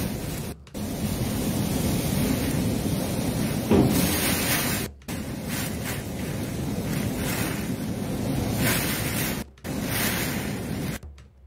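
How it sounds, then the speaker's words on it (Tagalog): Typhoon winds and heavy rain batter the area in a loud, continuous roar with surf-like washes, buffeting the microphone; brief dropouts break the sustained storm noise, and nobody speaks. "Yan ang pananalasa ng bagyo na to."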